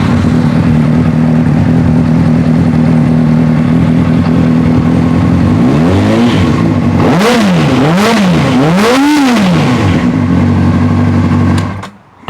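A Honda CBR 600RR motorcycle engine idles with a steady rumble, then revs sharply three times, each rev rising and falling quickly, before returning to idle. The sound is loud and close, with no talk.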